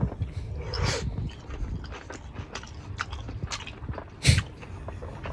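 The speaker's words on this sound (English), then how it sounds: "Let's chew. Yeah, not a bad crunch at all." A crunchy chicken toastie with aioli is bitten and chewed close to the microphone, giving repeated crisp crunching bursts with one louder bite near the end, with no talking.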